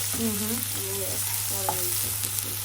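Onions frying in a pan toward browning give a soft sizzle with light stirring scrapes, brief and fairly quiet, over a steady low hum.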